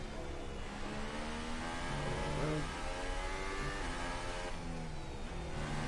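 A Formula 1 car engine in the game F1 2018 drones steadily, its pitch rising and falling as the car speeds up and engine brakes, with a faint tire squeal partway through.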